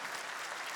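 Applause from a congregation during a Catholic Mass homily, a dense, even burst of many hands clapping, brief and fairly loud.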